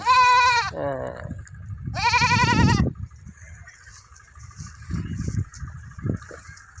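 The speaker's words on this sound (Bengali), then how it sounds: "হ্যাঁ ছাগল ব্যামাইতেছে" Goat bleats twice in loud, wavering cries close by, followed by low rumbling background noise and a brief spoken word.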